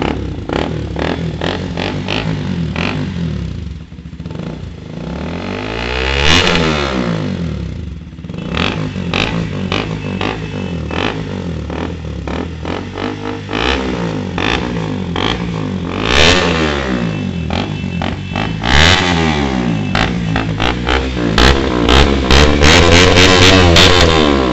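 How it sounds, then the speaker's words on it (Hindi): A modified KTM RC 200 motorcycle fitted with an Akrapovic exhaust revving hard, loud and close, with repeated rising and falling engine sweeps and a brief dip before climbing again, no talk. "अब इसका एग्जॉस्ट नोट करके देखते हैं कैसी साउंड कर रही है ये एग्जॉस्ट लगाने के बाद ये बाइक।"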